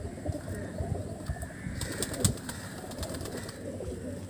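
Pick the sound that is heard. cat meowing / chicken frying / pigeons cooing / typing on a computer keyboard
pigeons cooing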